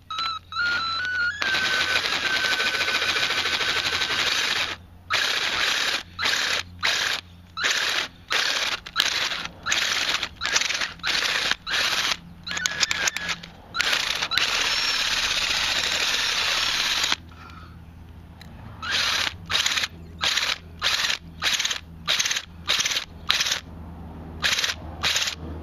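A power drill grinds inside a broken PVC sprinkler riser fitting to widen the pipe, running in loud, harsh bursts: one long run, then many short repeated on-off pulses separated by brief silences.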